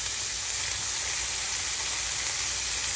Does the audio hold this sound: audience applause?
no